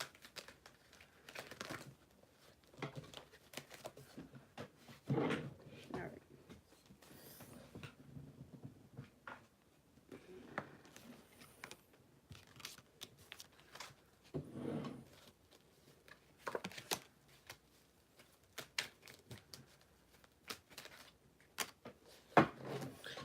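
Tarot cards are shuffled by hand in quiet, intermittent bursts of soft papery rustling and riffling, with a brief spoken word near the start.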